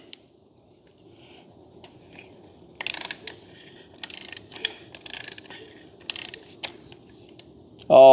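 A ratchet turns a 65 mm oil filter cup socket on a 2025 Kawasaki Ninja ZX6R, producing close, crisp clicking in quick bursts of rapid pawl ticks with short pauses between.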